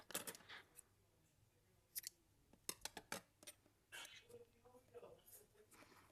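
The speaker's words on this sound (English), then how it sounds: "I'm gonna cut it" Quiet scissors snip through crochet yarn in a few small clustered cuts, close by and soft, with faint handling noise between them.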